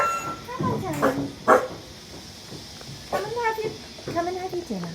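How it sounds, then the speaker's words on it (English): A white dog barks and yips in a few sharp bursts, close by, mixed with whimpering and people talking nearby. "She's the one that's barking."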